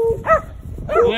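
A dog yips and barks twice in quick succession, close and loud, with short tonal cries.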